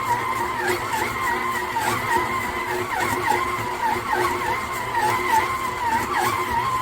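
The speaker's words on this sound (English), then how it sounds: "it definitely stresses out the motor a bit more, the gears" Kitchen in the box 660W electric stand mixer kneading a well-developed dough, its motor and gears under strain: a continuous loud whirring drone with a warbling, slightly wavering pitch, close and steady, with no voices.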